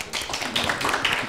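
Applause from an audience at a Latvian public discussion on the shadow economy, a short dense burst of clapping filling the room at steady loudness, with no voices over it.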